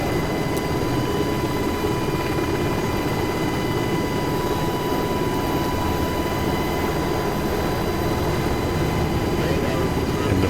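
A UH-60L helicopter in the DCS flight simulator video game runs with a steady, loud engine drone and turbine whine, constant throughout with no speech over it.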